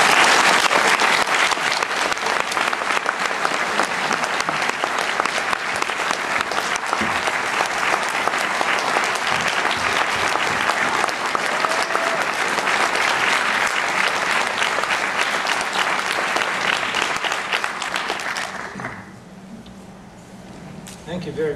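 A lecture audience gives David Ray Griffin sustained, loud applause that rolls on steadily for nearly twenty seconds before thinning out abruptly near the end.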